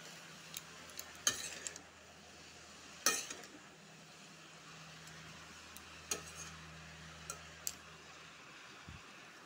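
A spoon stirs bottle gourd curry cooked with little oil in a pan. The scrapes and clinks are sparse and faint over a soft, low sizzle.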